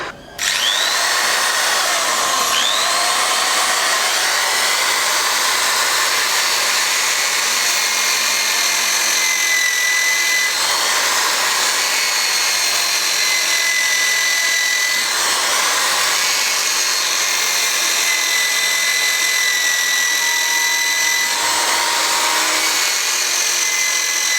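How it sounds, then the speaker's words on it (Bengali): A Buildskill electric drill whines continuously as it bores a hole with a thick bit, its pitch rising and dipping across several long passes, loud and close with no talking. "তো এটা যেহেতু একটু মোটা, তো ড্রিল হতে একটু টাইম নিচ্ছে।"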